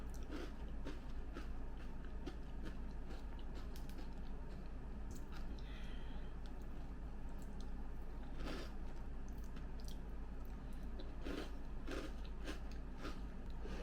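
Digestive biscuits being chewed up close, with a quiet run of soft crunchy bites and mouth sounds over a low background hum.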